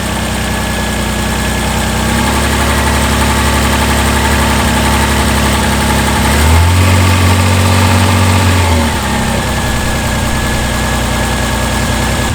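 A Reliant Scimitar car engine idling out of gear with the handbrake on, a steady loud close drone with a brief rise in pitch midway before settling back to a constant idle.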